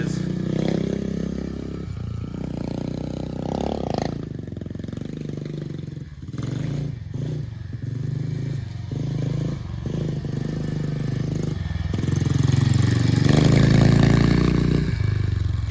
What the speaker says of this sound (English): You can hear how loud that bike is.